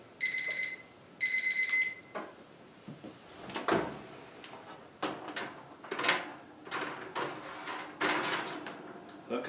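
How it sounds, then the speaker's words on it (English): A kitchen oven timer sounds two short bursts of rapid electronic beeping at the start, followed by clattering and handling noises of a kitchen while cookies bake. "our timer is about ready to go off"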